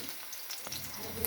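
Green chilies fry in hot oil for a poha breakfast: a faint, brief crackling sizzle with scattered small pops, heard close by.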